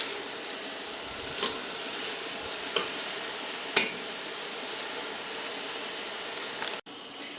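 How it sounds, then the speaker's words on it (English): Steady sizzle of meat browning with onions in a pot for chili, with a few sharp scrapes and taps of a spoon stirring against the pot over a constant frying hiss. "We've been stirring this and browning this"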